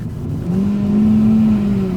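A Hyundai i20 with a 1.2 engine holds a steady, droning rev for a couple of seconds, heard close with road rumble underneath and no talk.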